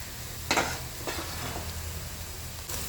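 Cabbage, capsicum and green chillies stir-fried in a pan for chicken fried rice, a steady soft sizzle with a few quick scraping stirs, close and quiet.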